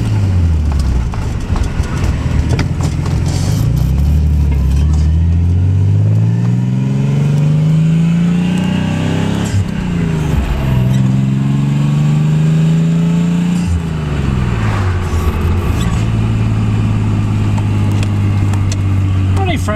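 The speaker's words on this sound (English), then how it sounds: "Scratch that, still backfiring." Nissan 300ZX engine revving repeatedly, rising and falling in pitch close by, with rough popping backfires scattered through, while people talk over it.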